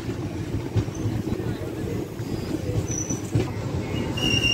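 The Sabari Express runs on the rails between Secunderabad and Trivandrum: a close, continuous rolling rumble with rhythmic wheel clatter and a few thin squeals above it.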